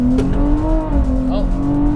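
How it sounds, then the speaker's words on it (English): Tuned 2024 Nissan Z Nismo pulling hard in second gear with traction control off, a loud steady engine roar from inside the cabin with rising pitch and a brief tire chirp, voices faint beneath. "So this time traction control's off. I might lose it. We'll see how it goes, but here's a second gear pull."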